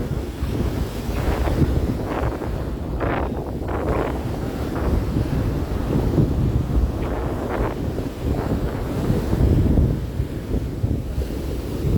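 Sea waves wash onto the beach at Thanuskodi near Rameshwaram, a loud, continuous roar of surf with repeated swells and buffeting wind noise on the microphone.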